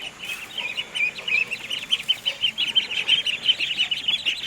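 Newly hatched ducklings huddled in a small cage give a steady stream of high, thin peeps, overlapping and continuous throughout, close by with no talking.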